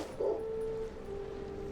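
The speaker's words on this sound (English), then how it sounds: "I heard a dog barking." A beagle gives a short bark and then a sustained high whimper that trails off, close and alone with no talking.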